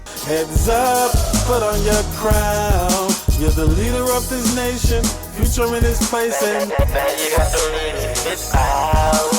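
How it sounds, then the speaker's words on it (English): A singer's voice processed with heavy auto-tune sounds robotic and stepped in pitch, carried over a loud, driving beat with steady music throughout. "I use the AutoTune to create like a computerized voice effect"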